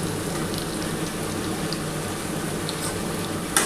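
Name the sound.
pointed gourd added to frying potato and papaya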